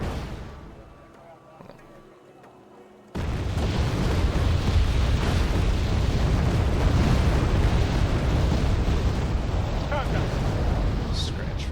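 Tanks firing with rumbling explosions in the Wargame: Red Dragon video game, a quiet start abruptly giving way to a dense, continuous roar of booms and blasts.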